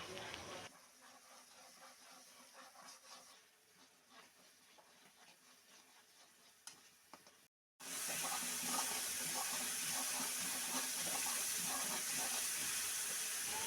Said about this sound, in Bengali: অল্প পানি দেওয়া হয়েছে।